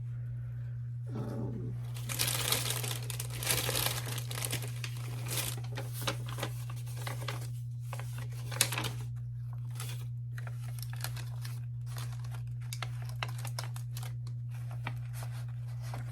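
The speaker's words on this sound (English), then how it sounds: "let me put a piece of paper here" A sheet of paper laid down over the pages of a book and handled, with steady crinkling, rustling and scraping close by, no talk, over a constant low hum.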